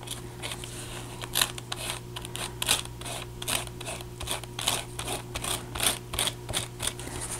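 A small craft knife cutting through the pages of an old, washed photo album, giving a series of short, crisp scraping cuts in an irregular rhythm, close and fairly quiet with a faint background hum.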